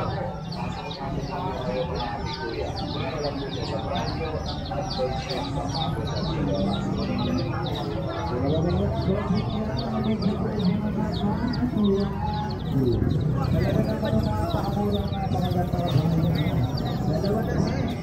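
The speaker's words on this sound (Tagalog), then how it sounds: "Puro ibon pala to." Chickens and other birds call over a busy outdoor din, with repeated clucks and chirps scattered across the scene and a steady background murmur beneath.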